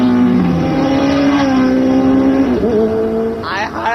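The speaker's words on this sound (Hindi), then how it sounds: "हाय कितना ट्रैफिक है।" Continuous hum of heavy road traffic with cars passing close by, engine tones rising and falling under a steady wash of road noise, one vehicle sweeping past near the end.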